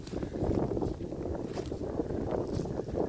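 Outdoors after a winter storm, gusty wind buffets the microphone in a steady, loud low roar with fluctuating rumbles and no other clear sounds.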